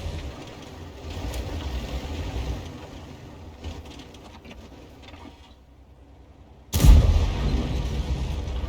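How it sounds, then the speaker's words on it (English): A low, continuous SU-130PM tank engine rumble in a video game drones throughout, briefly thinning out before a sudden heavy blast kicks in and the deep roar swells again. "the engine noises are back"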